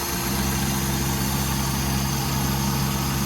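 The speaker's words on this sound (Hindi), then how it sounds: "तो देखिए कितनी मिसिंग होगी गाड़ी में एसी ऑन करते ही।" A Suzuki Alto K10 engine idles with the AC switched on, running with a misfire on the first cylinder; a loud, close, continuous rumble with an uneven pulsing beat and no talking.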